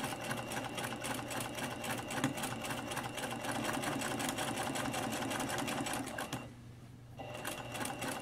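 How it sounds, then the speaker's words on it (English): A sewing machine stitching seams in a continuous rapid mechanical rhythm, close and steady, pausing briefly near the end before resuming. "what you're going to do is just keep on stitching all the way around"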